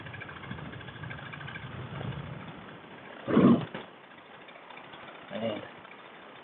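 A paramotor engine drones steadily in flight, a muffled, low-fidelity hum with two louder swells of wind or engine surge partway through, while a pilot talks over it.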